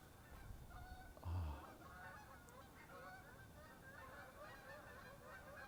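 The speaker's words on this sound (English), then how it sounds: "the Opspini are flying over, the white cheeks, what we call Canadian geese." Canada geese honking as a flock flies over outdoors, repeated nasal calls at moderate distance over a steady background, one louder burst near the start.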